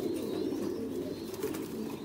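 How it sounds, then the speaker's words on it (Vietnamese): Caged pigeons on a farm that raises them in confinement, giving a continuous low cooing drone, close and steady, with no one speaking. "đây là hai con chim bồ câu này"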